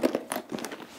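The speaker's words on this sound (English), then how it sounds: "So you just open up the two zippers" Two zippers on a knitting project bag are pulled open, a short close crinkly rasp with quick scratchy bursts, no talking.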